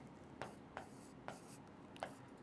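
Someone writes on a board with four sharp, evenly spaced scratchy strokes over a quiet background.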